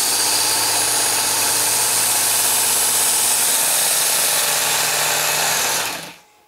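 A WorkSharp Ken Onion Edition knife sharpener motor runs with a steady, loud, high-pitched whine, then winds down and stops at the end.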